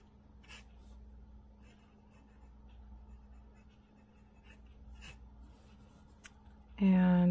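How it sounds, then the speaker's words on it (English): A fountain pen with a titanium extra fine nib scratches faintly across paper in short strokes, close and quiet over a low steady hum, ending with a sudden loud noise. "we'll do a writing sample with this too"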